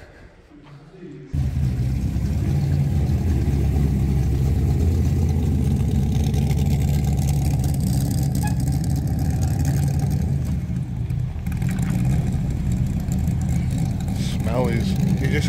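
Classic Aston Martin DB car engine running, a loud, deep steady idle that kicks in abruptly after a quiet start and rumbles continuously close by, with people talking faintly over it.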